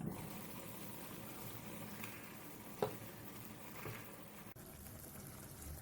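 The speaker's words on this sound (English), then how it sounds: "Now that's boiling vigorously." Masoor dal khichdi, a rice and lentil porridge with vegetables, boils vigorously in a pot, giving a faint, steady bubbling hiss with a few soft pops and a brief clink.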